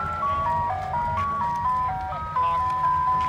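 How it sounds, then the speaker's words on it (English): An ice cream truck circling a festival plays its tinny chiming melody, a stepping electronic tune sounding moderately close over a low engine rumble and outdoor crowd noise. "there's an ice cream truck going around"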